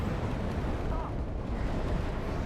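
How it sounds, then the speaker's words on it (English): Artillery fire in the WARNO video game: dense, rumbling booms and blasts merge into a continuous loud barrage across the whole stretch, with no clear gaps between impacts. "I have some artillery now aiming at these ITOs."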